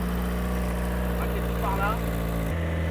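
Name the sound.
rear-mounted car engine running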